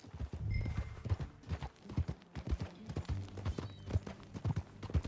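Horse hooves clip-clop at a steady walking rhythm in Red Dead Redemption 2, close and clear, with a low background bed underneath.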